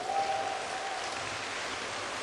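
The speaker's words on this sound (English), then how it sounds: "You guys have a big cheering section." Crowd cheering and applause for a North Hollywood, California team placed third at a national final, a steady dense wash of noise with no pauses, loud and sustained through the whole moment.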